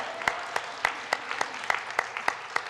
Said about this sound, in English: I think we should clap about that